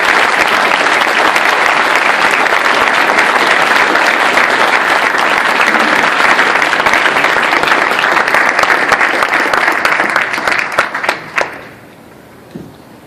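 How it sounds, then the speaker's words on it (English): An audience applauds after an award acceptance speech, dense sustained clapping filling the room for about eleven seconds before tapering off into a few scattered claps and quiet. "One more round of applause."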